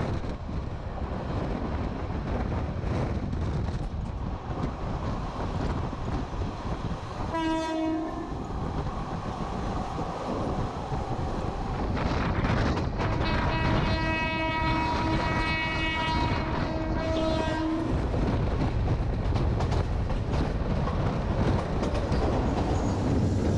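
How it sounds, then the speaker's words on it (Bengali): The Jayantika Express runs fast on the double line toward Dhaka, with a constant rumbling clatter of wheels on rails and the train horn sounding twice, a short blast followed later by a longer sustained one. "এদিকে এসে ট্রেন চলছে আরও অনেক দ্রুত গতিতে"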